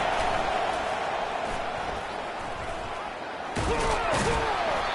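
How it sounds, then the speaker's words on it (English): A stadium crowd at a college football game roars steadily and loudly throughout, a dense wash of cheering that swells slightly near the end, with commentators talking over it. "listen to the roar of this crowd"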